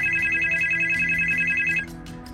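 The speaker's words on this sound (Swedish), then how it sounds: "Signalerna går fram och jag hör igen farbrorn som svarar." A telephone ringing tone sounds during a call, a steady repeating electronic ring that cuts off partway, with faint background noise continuing after.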